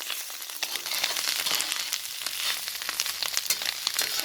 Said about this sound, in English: I put in the garlic. I will mix this up so it gets fried up just a little bit.